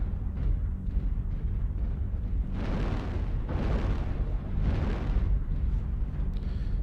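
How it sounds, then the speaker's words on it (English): Airstrike explosions in MechWarrior Online: several deep rumbling booms rolling in one after another over a constant low roar, loud and heavy, with no talk over them. "Airstrike online."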